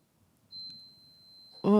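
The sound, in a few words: slow cooker beeping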